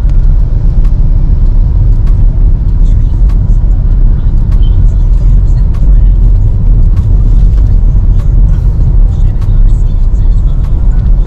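Dense jammed car traffic on EDSA in the late afternoon, a loud continuous low engine rumble with occasional brief clicks, no pauses, filling the whole stretch.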